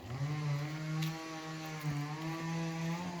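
Chainsaw cutting wood on a farm, a steady high-pitched screeching whine held close and loud throughout, with slight dips in pitch as the blade bites.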